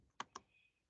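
A computer keyboard clicks twice in quick succession, crisp and close, then a third key tap lands at the end in an otherwise quiet room.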